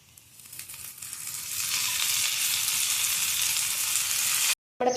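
Hot tempering of dried red chillies and onions is poured into pineapple pachadi, giving a loud, swelling hiss of sizzling that holds steady for a few seconds and then stops abruptly.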